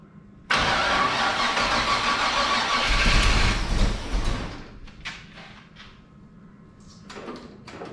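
Toyota FJ40 engine cranking and catching, a loud rough churn that settles into a lower idle before fading, with scattered clanks and handling noises nearby.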